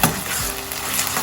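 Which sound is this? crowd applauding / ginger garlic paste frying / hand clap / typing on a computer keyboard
ginger garlic paste frying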